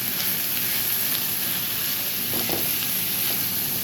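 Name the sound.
frying capsicum and onion in a pan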